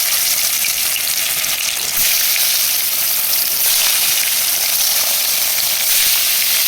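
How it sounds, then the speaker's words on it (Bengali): Pangas fish pieces dropped into smoking-hot oil crackle with a loud, dense, continuous sizzle that holds steady throughout with no voices. "তেলটা আমার এখন তেতে গেছে, দেখুন ধোয়া উঠছে। আমি এখন মাছগুলো ফেলে দেবো।"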